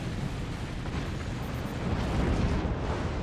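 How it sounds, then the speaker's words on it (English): Dense, continuous barrage of weapons fire and explosions in the physics-based fort-building game Forts, a loud rumbling wall of booms and bursts with no clear gaps, swelling slightly toward the end. "All his weapons fire."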